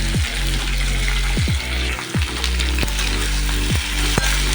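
Chopped vegetables with onion and green chili fry loudly in a pan, a steady close sizzle broken by several sharp scraping strokes as the mix is stirred.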